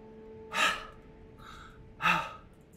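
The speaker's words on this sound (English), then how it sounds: "I'm breathing." Heavy gasping breaths after an energetic dance, two loud breathy inhalations about a second and a half apart, close and alone with no talk.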